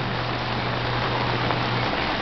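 Steady, dense rain falls outdoors while a child bathes in it, a loud continuous hiss with a faint low hum underneath and no talk.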